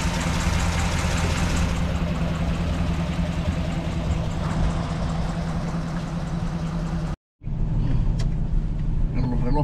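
A 1952 Buick engine idles steadily and continuously at close range, with a brief dropout near the end before the rumble resumes.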